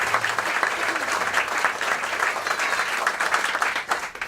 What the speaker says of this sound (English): So, round of applause for Senator Hansen.